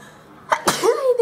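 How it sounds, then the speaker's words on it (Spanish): A woman sneezes once, sharply and up close, while applying makeup, with a short vocal tail just after it. "Siempre que yo me maquillo, estornudo"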